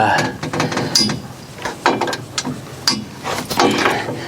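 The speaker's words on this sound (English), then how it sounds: "let's see if we can loosen this top U-bolt here that holds the canopy" Ratchet wrench working loose the top U-bolt that holds the canopy on a Kioti CK3510se tractor, a few bursts of quick metallic clicking with pauses between, fairly close.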